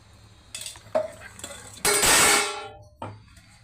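A metal weight set on the lid of a pot of chicken biryani sealed with ghee over hot coals gives a few close clanks, then a loud burst of hissing steam, with one more clank after.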